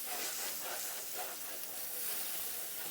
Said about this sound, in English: Ooh, y'all hear that sizzle?